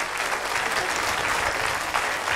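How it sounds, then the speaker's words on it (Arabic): An audience applauds a young girl named Aya on a children's television program, a dense, steady wash of many hands clapping close and loud, unbroken for the whole stretch with no voices. "صفقوا مرة ثانية لآية"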